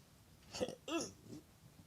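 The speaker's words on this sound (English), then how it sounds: "Sorry for the belching and all that." A person belches after a big bowl of food, two short throaty bursts close to the microphone with a faint tail, no talking.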